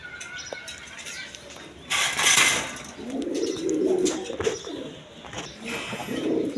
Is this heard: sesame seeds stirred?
no